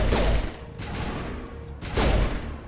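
Bursts of gunfire from the video game Mass Effect, two heavy broadband volleys roughly two seconds apart with a steady rumble of game noise in between, fairly loud.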